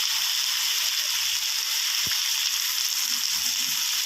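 Carrots stir-fried in a pan for a bean sprout and yellow tofu dish, giving a steady close sizzle and frying hiss throughout, with one brief scrape of the utensil midway.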